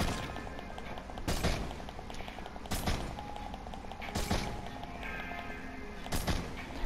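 Gunshots in a video game ring out as a few sharp, widely spaced reports, each a loud crack over a low steady background hum, fairly close, with no voices.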